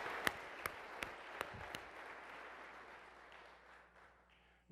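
Applause at a city's state-of-the-city address is faint and distant, with a few sharp nearby claps early on over a soft wash of clapping that fades out toward the end.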